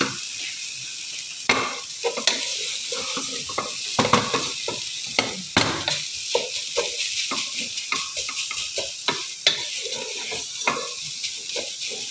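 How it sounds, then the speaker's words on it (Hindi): Chicken fries with tomato puree in a pan on a low flame, giving a continuous sizzle broken by frequent stirring scrapes and taps, close and loud, with no talk. "लो फ्लेम पे आप अच्छी तरह इनको भून लें। इस प्यूरी के साथ चिकन को।"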